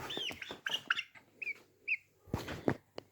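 A young Plymouth Rock chick under a heat lamp makes a few short, close chirps and soft clucks, spaced irregularly among other small peeping birds in a quiet setting.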